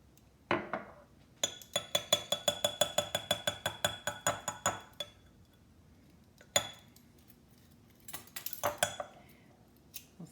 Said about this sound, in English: We'll see if we stir this together